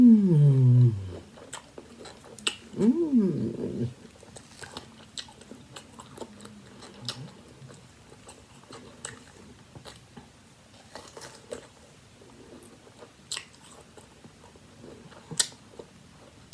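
Crisp bites into a lemon pear followed by soft, wet chewing, close to the mic, with several short crunchy bursts and quieter mastication in between; a brief tonal vocal sound comes near the start.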